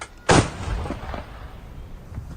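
One loud artillery shot cracks out, then its boom rolls and rumbles away into the distance.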